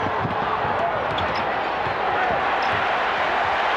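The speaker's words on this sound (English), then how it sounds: "Crowd responding to the defensive work by the Bulls." Arena crowd noise at the 1991 NBA Finals Game 2, Lakers versus Bulls, a steady loud roar of thousands of fans rising for the Bulls' defense, with faint court thumps beneath.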